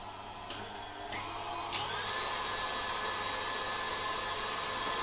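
An electric food mixer whirs steadily as it spins a glucose-based sugarpaste mix, a constant moderate motor hum with a few faint clicks early on.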